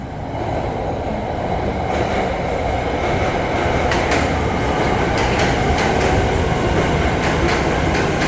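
A diesel railcar express from Surat Thani to Krung Thep Aphiwat Central, hauled by a diesel locomotive after a breakdown, rumbles past steadily and loudly with a dense roar and light rhythmic wheel clatter throughout.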